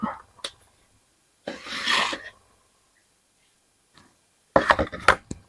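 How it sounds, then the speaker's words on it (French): Scissors snip through a piece of craft ribbon in a few separate cuts, close and fairly quiet, with silent pauses between them and no speech. "Je vais prendre mon ruban qui est ici. Je vais couper un morceau."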